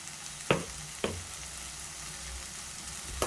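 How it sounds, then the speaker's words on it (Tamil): Tomatoes soften in hot oil in a pan while a dried fish curry is prepared, giving a steady close sizzle broken by a few sharp stirring clatters. "தக்காளி நல்லா வதங்கட்டும்"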